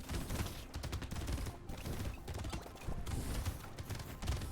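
Rapid bursts of shotgun fire from two cursed level 4 shotguns in the game Brotato, a dense, continuous clatter of overlapping shots and impacts.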